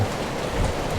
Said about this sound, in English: It's no extra wind, but just a dump of rain